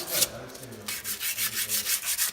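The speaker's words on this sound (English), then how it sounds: "then you just start sanding. So you do the face first" Hand sanding on the face of a brake caliper being prepared for repainting, with a quick series of close, rhythmic scratchy rubbing strokes.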